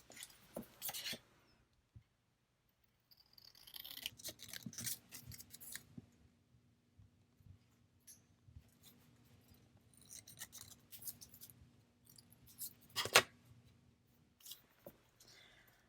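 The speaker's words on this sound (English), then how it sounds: "I think I'm just going to cut this." Scissors cut paper in a planner with sparse, close snips and crisp paper rustles, scattered over a quiet stretch with pauses and small handling sounds.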